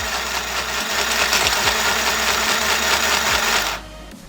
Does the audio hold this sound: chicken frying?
no